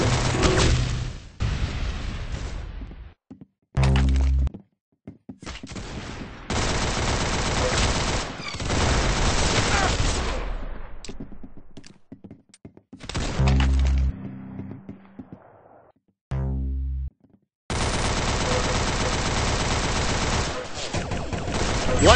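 Gunfire in the Roblox shooter game Arsenal, long bursts of rapid, dense automatic fire broken by short gaps and single heavy shots, loud and continuous like game audio.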